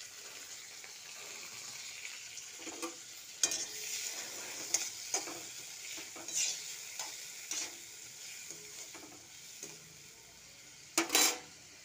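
Tomatoes fry with lightly fried onions in mustard oil, a soft continuous sizzle broken by regular spatula scrapes and knocks against the pan, close and moderately quiet, with one louder clatter near the end and no speech.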